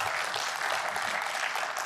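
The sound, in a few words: audience applause after a talk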